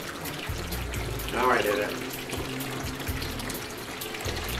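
Tap water running steadily while rinsing a protein skimmer's collection cup, a constant moderate hiss with a brief louder splash, and a voice speaking briefly over it.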